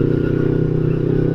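An older fuel-injected Kawasaki Ninja 250 with a full-system exhaust idles and revs steadily with a throaty, rapid pulsing exhaust note, loud and close.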